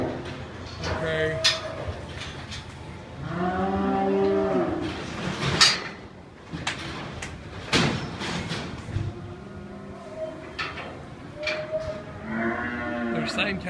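Hereford heifers bred to Brahman bulls moo repeatedly in a cattle pen, several long, drawn-out calls from nearby animals overlapping, mixed with clanks and rattles of gates or metal.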